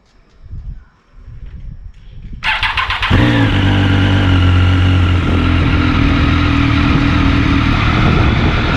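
Triumph Street Triple 765R on its stock exhaust in a housing estate: some handling noise, then the starter catches and the three-cylinder settles into a steady, fairly quiet idle close by.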